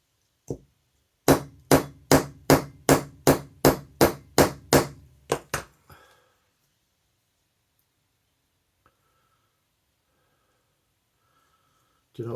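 Roughly ten evenly spaced, loud hammer blows drive out a knife pin on a makeshift support, each strike ringing briefly with a slight metallic clink, followed by near silence and a final knock at the end.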